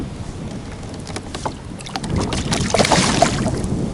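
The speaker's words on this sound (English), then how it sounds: "it figures this wind's going to start to die down a little bit right here at sunset" Strong wind blusters across a boat on a lake during a catfish drift, a continuous rough roar against the microphone that grows louder toward the end, with faint water and hull knocks.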